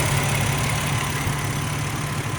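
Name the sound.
2004 Ford Ranger Edge engine running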